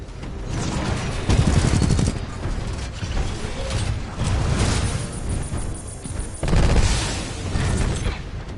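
Gunfire in the Titanfall 2 video game erupts in loud bursts and rapid volleys, with heavy impacts and mechanical clanks over several seconds and a brief lull before another barrage.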